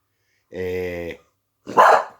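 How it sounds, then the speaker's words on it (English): A dog barks twice at close range, a sustained tonal bark followed by a short, sharper one, with silence around them. "the dog's barking because she's here"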